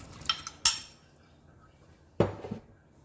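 Potatoes dropped into a pot of beef and lentil soup, a few sharp metallic clinks and clatters against the pot, two main bursts separated by quiet, close and unaccompanied by voices.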